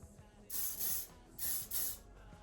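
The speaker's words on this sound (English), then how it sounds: "Just fix with some soft workable hairspray." Soft workable hairspray hisses onto styled hair in two pairs of short bursts, close and crisp, separated by a brief pause, with no voices.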